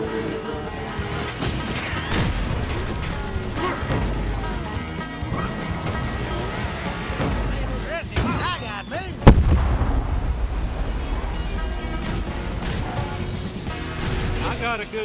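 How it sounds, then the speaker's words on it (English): Rockets explode in the Cars 3: Driven to Win racing game. Rumbling blasts and crashes pile up over engine noise, and one sharp, loud detonation stands out, while a player talks excitedly throughout. "And there go the rockets"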